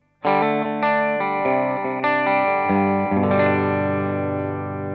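Electric guitar, a Suhr Classic S with SSV bridge pickup, strums a sequence of chords, bright and slightly driven with effects, ringing out near and loud with no talking.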